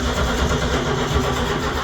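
A 2009–2013 shed-kept vehicle's engine turns over on a weak battery, making a loud, continuous, close grinding crank that drones without catching.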